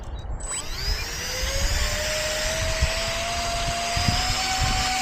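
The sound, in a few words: ZOHD Drift FPV plane motor at half throttle during hand launch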